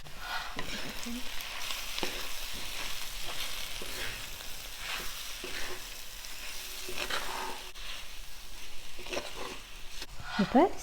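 Boiled, mashed cassava goes into a pan with salt for cassava bonda and is stirred, producing a steady low sizzle with repeated scraping and soft thuds from the spatula throughout, partly under a voice, close by.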